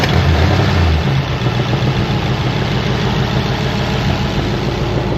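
An old Ford Flathead V8 and Chevy Stovebolt straight-eight compared before a drag race, one engine idling loud and close with a steady, rough rumble that holds for the whole stretch.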